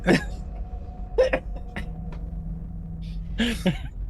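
Several short, sharp coughs in bursts, close by, with brief pauses between them over a low steady hum.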